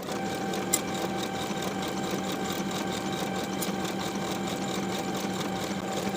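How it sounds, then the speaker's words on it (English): A sewing machine runs steadily and loudly up close as it sews a bodice and sleeve seam, a continuous rapid hum with an even stitching rhythm throughout. "Then we'll sew this seam with a 3/8 inch seam allowance"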